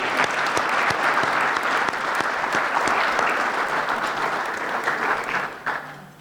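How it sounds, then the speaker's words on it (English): Loud, sustained applause from a banquet audience at a chamber of commerce awards dinner, a dense wash of clapping that holds steady for several seconds before tapering off at the end. "Please give them another round of applause."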